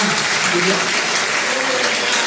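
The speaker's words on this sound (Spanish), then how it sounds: "quiero que también le den un fuerte aplauso" A jazz festival audience at Tabacalera claps in a thick, continuous wash of applause, with faint voices mixed underneath.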